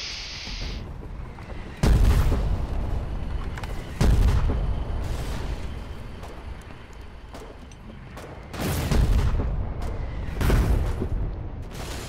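120mm artillery shells landing in the war game Foxhole, several heavy booming impacts at irregular intervals with rumbling decay between them, fairly loud against a steady background roar.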